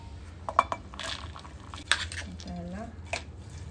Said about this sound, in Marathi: आता आपण मूगला पण त्या भांड्यात टाकून मिक्स करून घेऊया.